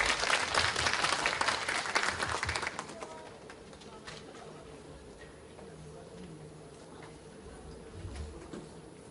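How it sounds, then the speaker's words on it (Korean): An audience of parents at a high school parents' meeting in a hall gives brisk applause that fades after about three seconds into quiet room noise with faint murmurs. "힘찬 박수로 환영해 주시면 감사하겠습니다"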